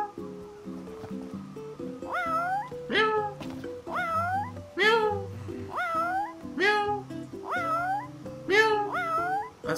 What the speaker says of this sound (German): Das hungrige Kätzchen.